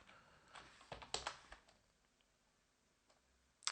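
Keys tapped on a computer keyboard while entering a Linux terminal command, a quiet scatter of soft clicks in short bursts with a long near-silent gap before a final sharper keystroke.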